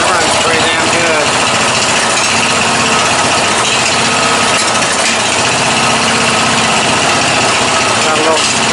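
A 14.5 hp Briggs & Stratton engine on an MTD Yard Man riding mower runs steadily and loudly at close range for the whole stretch, with a constant mechanical drone and no talking over it.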